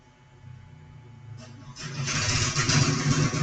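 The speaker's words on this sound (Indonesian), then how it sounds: "Maaf jika sini berisik, soalnya rumah membuka bengkel motor." A motorcycle engine in a home motorcycle repair workshop starts up partway through, then runs loud and steady nearby after a quieter stretch with faint background noise.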